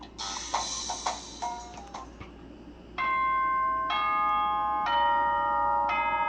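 Danganronpa video game chime: a rapid run of bright bell tones, then four sustained ding-dong chime notes sounding clearly at an even pace, with no talk.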